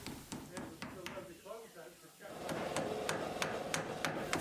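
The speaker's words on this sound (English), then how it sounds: "and continued nailing" A hammer drives clout nails into felt on a shed roof, with a steady series of sharp, evenly spaced taps, close and fairly loud, after a brief pause.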